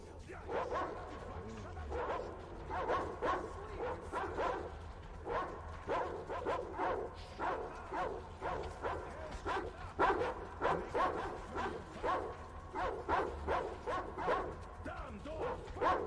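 Dog in the video game Metro Exodus barks repeatedly across the whole stretch, with sharp, regular yaps and a few whimpers, under a voice talking.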